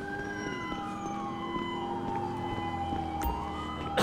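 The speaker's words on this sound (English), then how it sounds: "Fire truck is responding code 3." A fire truck siren wails in the LSPDFR police video game as the engine responds code 3. The sweeping tone is loud and continuous and rises and falls over the hum of road traffic.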